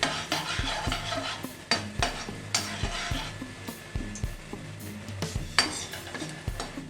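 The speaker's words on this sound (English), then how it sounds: "Then after added garlic chop and stir well for few seconds." Chopped garlic frying in a pan for a tempering with black cumin seeds, stirred with repeated sharp metallic spoon taps and scrapes in an uneven rhythm over a low sizzle.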